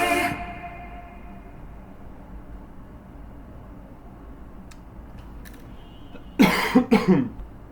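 After a stretch of quiet background hum, a person who has been sick coughs several times in a quick, close burst near the end.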